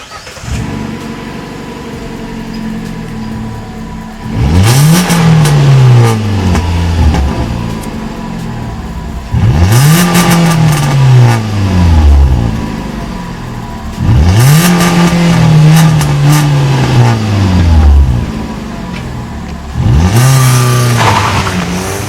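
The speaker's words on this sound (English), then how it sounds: "Add the engine revving and the starter." A Hyundai i20 Elite 1.2 petrol engine cranks and catches, then revs up and falls back four times in a steady cycle, loud and close, with idling between.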